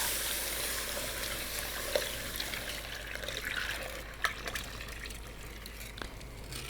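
Milk is poured into gravy in a pan while being stirred, a soft, close trickle of liquid with faint clinks of the utensil, quiet and without talk.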